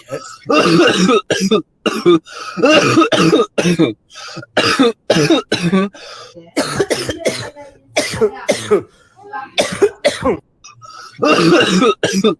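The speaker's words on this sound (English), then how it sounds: "They be coughing on everything." Several bursts of coughing and throat clearing, interleaved with talking voices in a close, casual indoor exchange.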